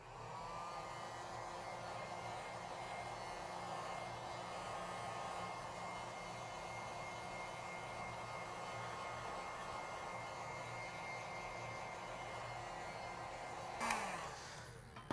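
A hair-dryer-style heat tool blows steadily while warming an iPhone screen before opening it, a constant close whir that cuts off abruptly near the end.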